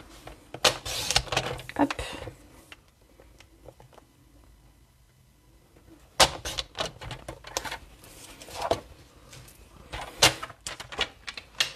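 Scissors cutting paper card for a handmade Christmas card, crisp close snips and rustling paper in two bursts separated by a quiet pause, with a voice speaking briefly.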